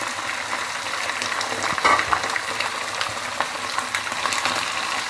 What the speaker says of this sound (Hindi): चिकन को अच्छी तरीके से भूनना है ऑयल में